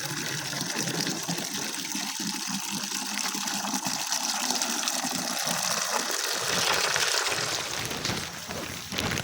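A container of water is poured into a rat burrow in a farm field during the rainy season, producing a loud, continuous gushing rush that lasts several seconds and slightly intensifies near the end, with no talk.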